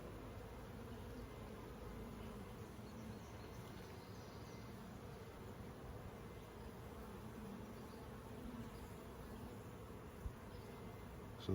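Carniolan honeybees hum steadily around open hive frames of brood and pollen, a continuous faint buzzing drone without talk or breaks.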